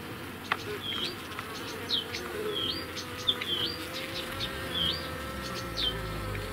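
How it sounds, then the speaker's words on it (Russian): Bees hum steadily inside a small micronucleus beehive, a close, continuous buzz with occasional higher whines from individual insects passing near. "Здесь сидят пчелки."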